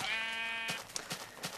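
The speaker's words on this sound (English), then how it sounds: "But some sheep spawned while I was looking around, which is great!" Sheep in the video game Minecraft let out a clear, fairly close bleat lasting most of a second, followed by soft shuffling and tapping noises.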